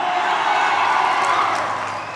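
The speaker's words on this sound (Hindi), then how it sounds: "पवन भैया के लिए दिल खोल के तालियां" Dense, steady crowd noise at a Pawan Singh stage show, sustained applause and cheering from a large audience filling the whole clip, loud and continuous before easing slightly at the end.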